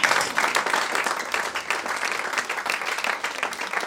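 Church congregation applauding the Lord, a loud continuous patter of many hands clapping throughout, close and full.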